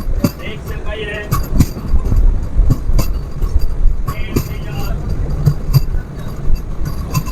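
A white and red MEMU special train with ICF coaches runs on the track near Pakdaha Harin Singh station, a loud continuous rumble with rhythmic clicks and rattles, with a voice speaking over it.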